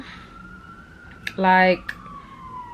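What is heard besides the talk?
emergency vehicle siren passing outside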